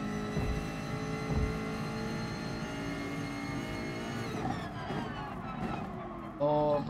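A Jaguar race car engine in Gran Turismo Sport drones with a tonal whine that shifts in pitch as it revs, with a faint thump near the end.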